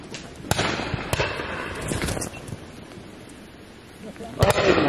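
Shotgun shots at a pheasant shoot on Exmoor ring out outdoors, a few sharp reports spaced across the moment with a double blast near the end, amid wind noise and faint voices.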